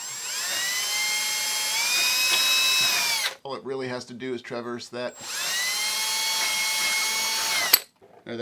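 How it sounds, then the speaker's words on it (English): A high-pitched power drill whines steadily for a few seconds while drilling through Gatorfoam board, stops while someone talks, then runs again in a second long burst. "You can see that the drill goes through the GATORFOAM pretty easily."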